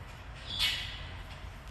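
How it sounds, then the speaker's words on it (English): Taveta golden weavers calling in a zoo exhibit during breeding season, a single short squawking call rising briefly over a low, steady background murmur. "a lot of the males are spending a lot of time building nests, making displays, doing lots of different vocalizations to attract females"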